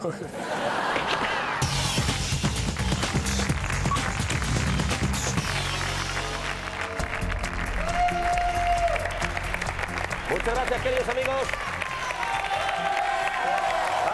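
Studio audience applauds and cheers with scattered laughter on a Spanish TV news-satire show, steady crowd noise throughout while a host speaks over it.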